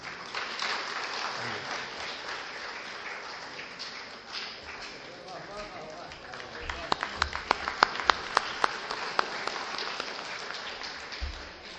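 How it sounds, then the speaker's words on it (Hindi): Audience applause welcoming a speaker at a mushaira poetry gathering in Pune, a steady crowd clapping throughout with a few louder, sharper individual claps standing out near the end. "डॉक्टर मेहताब आलम का पुरजोर तालियों के साथ इस्तकबाल करें।"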